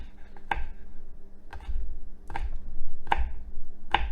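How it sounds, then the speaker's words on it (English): A knife chops garlic on a cutting board in sharp, separate taps, about five strikes spaced unevenly, close and fairly quiet, with no voices. "I'll do a little slice, being very careful, and then using proper cutting techniques"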